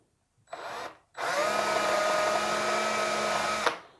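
A power drill with a 3mm bit bores through wood backed by a scrap board, a short whirring burst, a brief pause, then a longer steady high-pitched drilling run of about two and a half seconds, close and loud with no talk.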